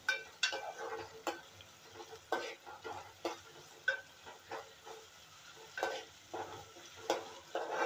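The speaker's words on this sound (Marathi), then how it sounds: "टोमॅटो सारा नरम झाला की त्याच्यामध्ये सुकट आपल्याला फ्राय करून घ्यायचे आहे।" Dried fish (sukat) frying with softened tomato in a village-style pan, a steady sizzle broken by repeated scraping stirs of the spatula at an irregular rhythm, close and moderately loud.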